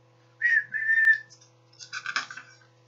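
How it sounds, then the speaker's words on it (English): A railway station master's whistle gives two shrill, steady blasts, the second held longer, then a burst of jangling, rattling metallic clatter, close and fairly loud with no voices. "But the station master blew his whistle and Neville had to chug off sadly away."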